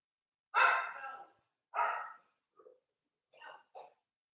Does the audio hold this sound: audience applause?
no